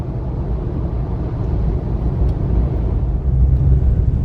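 Vehicle rolling over a gravel road in northern Namibia, a steady low rumble of tyres and engine with rougher, louder crunching toward the end, no voices.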